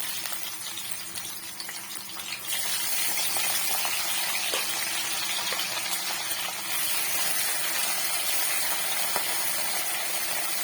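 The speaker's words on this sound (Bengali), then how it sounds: "এবার আমি কড়াইয়ের মধ্যে দিয়ে দেবো লবণ হলুদ মাখিয়ে রাখা ট্যাংরা মাছ।" Tangra fish coated in salt and turmeric goes into a hot wok and bursts into a loud, steady sizzle after a couple of seconds of quieter hiss, with no talking.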